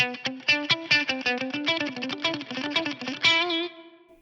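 A fast, heavily distorted electric guitar lick, notes picked in a quick steady run before a final note rings out and fades.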